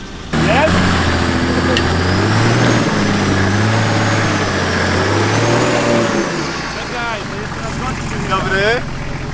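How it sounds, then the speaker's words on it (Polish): A stock Nissan Patrol with a weak engine strains and revs steadily through mud, rising and falling as it works through heavy going, with people talking over it. "pokażemy, jak się przejeżdża polskie błoto patrolem seryjnym z marnym silnikiem"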